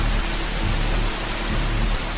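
Heavy video-game rain pours as a dense, steady hiss with no breaks and no speech.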